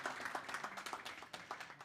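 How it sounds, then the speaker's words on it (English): Faint audience clapping at a tech conference stage session, sparse irregular claps rising and falling over a couple of seconds, quiet and distant. "Round of applause."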